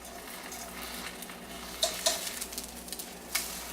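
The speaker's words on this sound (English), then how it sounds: "all we're doing is cooking this very thin coating of egg" A very thin egg coating sizzles in a frying pan, a soft continuous hiss broken by a few sharper crackles and pops, close by with no talking.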